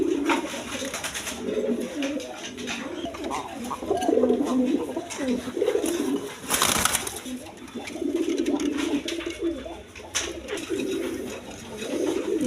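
High-flying Rajshahi Giribaz pigeons in tiger colouring coo softly and repeatedly nearby, with someone talking over them and a brief louder noise partway through.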